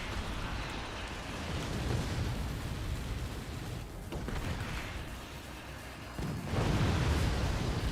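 Explosions from the Kaboom spell in the strategy game Forts rumble loudly and continuously, with a fresh heavy blast swelling near the end.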